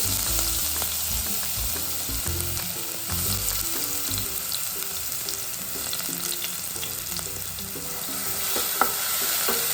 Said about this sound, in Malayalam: ഇനി എണ്ണ ചൂടായിട്ടുണ്ട് അതിലേക്ക് ചതച്ച് വെച്ചിട്ടുള്ള വെളുത്തുള്ളി ഇഞ്ചി പച്ചമുളക് ഇട്ട് കൊടുക്കുകയാണ്